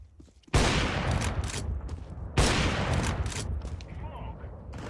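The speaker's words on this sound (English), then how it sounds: "I'm throwing the flashbang" Explosive bursts in a Counter-Strike match as a flashbang grenade is thrown, two loud sudden blasts each trailing off into a long noisy ring, with game ambience around them.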